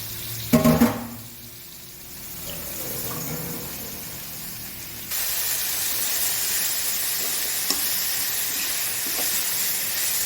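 Curry leaves hit a hot pan for a crab fry. A few sharp crackling bursts come first, then a quieter lull, and a loud, steady steamy hiss builds and holds close by with no voices.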